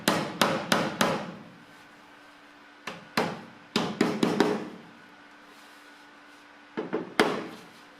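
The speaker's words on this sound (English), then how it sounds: "I had to hammer it back into shape to keep it flush." Sharp hammer blows on a BMW E30 metal body panel land in quick bursts of three or four, pausing between groups, with a ringing, clanging edge up close.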